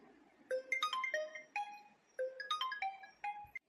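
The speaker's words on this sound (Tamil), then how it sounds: "யார் ஃபோன் அடிக்குது? ஏமா உன் ஃபோன் தானே அடிக்குது?" A mobile phone rings with a faint melodic tone, short bursts of chirpy electronic notes repeating in two phrases, quiet and somewhat distant, without speech over it.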